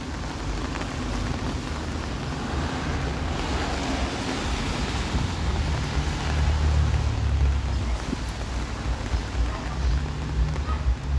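Rain falls on a city street in Toronto on a Saturday evening, a dense continuous hiss with a low traffic rumble swelling midway, and no one talking.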